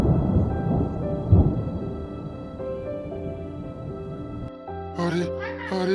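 Rain and thunder in a cartoon storm over a flooded farm field, a steady wash of rain with a low rumbling swell, set under a musical score that takes over near the end.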